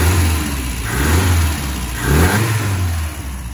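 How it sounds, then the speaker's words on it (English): A 1974 MGB Roadster engine revs up loudly twice, rising and falling in pitch close by, with a rumbling idle between the bursts. "great revving sounding engine"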